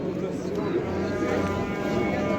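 Oxen lowing at a busy livestock market: several deep moos overlap through the whole stretch, loud and near, with murmuring crowd noise beneath.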